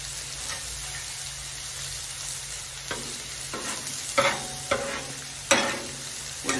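Poblano peppers and onions sizzle steadily on a hot griddle, a close hiss with a few sharp spatula scrapes and taps toward the end.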